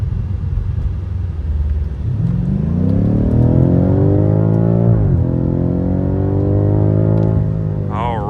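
A BMW M5 Competition F90 in Sport Plus mode accelerating hard, its engine note rising through the revs loud and close, dipping at a gear change, then climbing again, with no talk.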